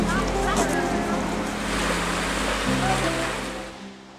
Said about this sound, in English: the thunder of the spectacular Yosemite Falls drums in our ears